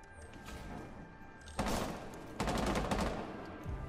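Rapid bursts of gunfire from a Rainbow Six Siege match, a steady clatter of shots with sharper, louder volleys near the middle and end, heard alone without talk.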